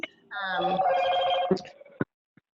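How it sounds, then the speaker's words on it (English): A telephone rings with a bright electronic warbling tone for about two seconds, loud and close, with a short clatter at the end as it is silenced. "so I'm going to silence my phone."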